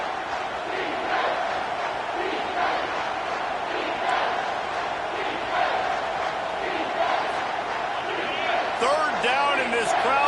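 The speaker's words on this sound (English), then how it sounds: "this crowd will blow out a vocal cord to help this defense" A stadium crowd roars steadily through football overtime, a dense, loud wall of cheering and shouting that holds for the whole stretch and swells slightly near the end, with a commentator talking over it.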